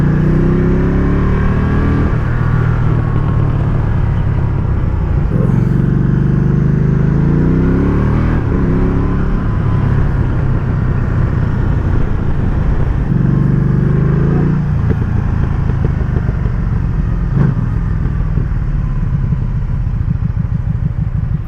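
Motorcycle engine revving hard through a loud exhaust with a gargling burble, repeated rising and falling throttle blips that stay close and strong for the whole stretch, with no talking over it.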